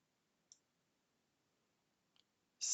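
A computer mouse clicks through a Windows 10 extend-volume wizard: two faint, sparse clicks well apart, then a louder burst of sound at the very end.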